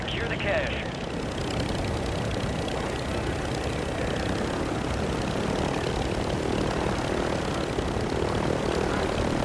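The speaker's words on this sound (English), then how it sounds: "There's a helicopter plane, let's get them." Aircraft engine drone in a Call of Duty battle, a steady propeller-like roar holding at a constant level with no clear words spoken over it.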